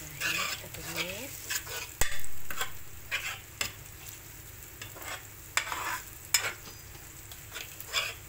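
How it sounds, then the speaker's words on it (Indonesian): Ground spice paste sautéing in hot oil for a beef tongseng, a continuous close sizzle punctuated by scraping stirs and sharp clicks of a spatula against the pan. "Sepertinya minyak sudah panas, kita tumis bumbu halus tadi ya."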